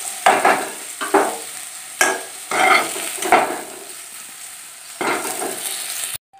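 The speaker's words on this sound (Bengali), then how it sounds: "আলুগুলো ভাজা হয়ে গেছে, এখন আমি আলুগুলোকে তুলে নেব" Potatoes fry in mustard oil while a spatula stirs them. Several sharp scraping stirs land over a steady sizzle that runs throughout, then cuts off abruptly at the end.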